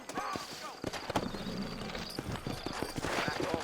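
Horse hooves clip-clop in an uneven rhythm over a busy background in the video game Red Dead Redemption, with a voice talking over them.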